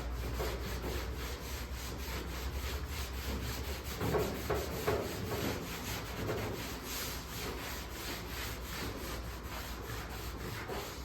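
A cloth rubs steadily back and forth across a truck hood with alcohol, a close, continuous scrubbing and wiping sound that lasts throughout, with brief louder strokes midway.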